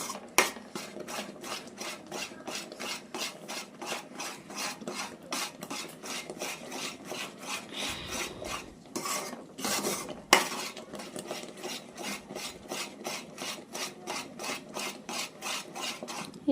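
A utensil steadily stirring and scraping thickening cashew barfi mixture in a pan, making a rhythmic, rasping back-and-forth sound that repeats for the whole stretch, close and alone without talk.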